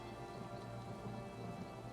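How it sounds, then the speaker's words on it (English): Steady, dense rain in The Elder Scrolls Online, a continuous hiss of drops falling on surfaces with no breaks and no voices. "I could do without this damnable rain. It's been storming since we arrived, and it shows no sign of letting up."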